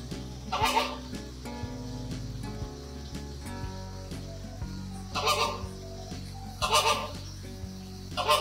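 Ducks near a beach enclosure give a few loud, honking calls in short bursts, standing out over a steady, tonal background.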